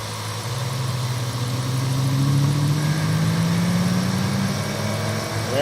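The engine of a 1998 Lincoln Town Car idles steadily during a cooling-system check, a loud continuous low rumble with a slowly rising hum and no speech over it.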